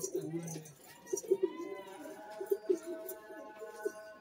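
Madrasi pigeons coo in soft repeated bursts close by, with a voice talking over them and faint jingling in the background.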